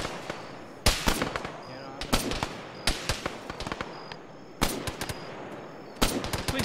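Repeated bursts of automatic gunfire in the military shooter Arma, ShackTac play, sharp volleys spaced a second or two apart at moderate loudness with voices in the background.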